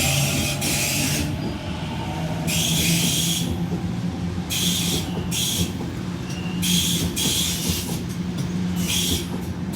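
Train at Waitara station: a steady, close rumble runs throughout, with rhythmic bursts of bright metallic hiss and clatter recurring every second or two as carriages pass.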